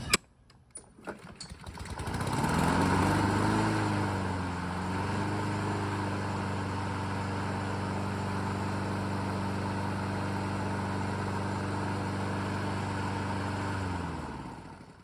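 A freshly sharpened lawn mower engine catches after a few clicks and sputters, revs up, then settles into a steady loud drone that holds for over ten seconds before cutting off.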